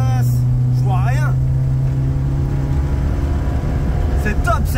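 A Peugeot 205 GTI driven with no bonnet drones loudly and steadily throughout, its low engine note filling the cabin while someone shouts briefly over it.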